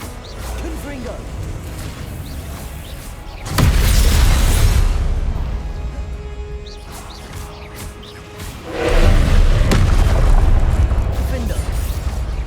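Two heavy Confringo fire-spell explosions go off in Hogwarts Legacy combat, each a sudden loud boom with a rumbling decay, spaced several seconds apart over a continuous bed of game noise and faint voice.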